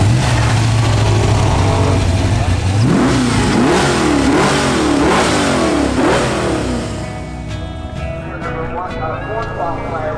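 A 1989 Pontiac Safari Wagon with custom suspension and Corvette disc brakes starts and idles, then revs hard in several rising and falling sweeps, loud and close, before settling back to a rough idle with faint talk nearby.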